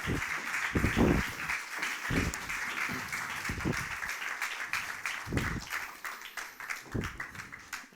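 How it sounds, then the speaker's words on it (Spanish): Audience applause during a presentation and discussion event, a steady crowd clapping with some louder individual claps standing out near the front, continuing evenly and tapering slightly toward the end. "pido un fuerte aplauso para Maitane Ormazábal y Telmo Lazcano"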